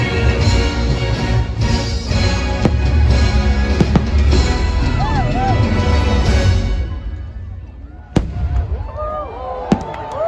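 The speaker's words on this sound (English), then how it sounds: "I love this fireworks show so much." A fireworks show at Magic Kingdom fills the air with dense, loud crackling bursts and booms, easing into scattered pops and whistles near the end, with crowd voices underneath.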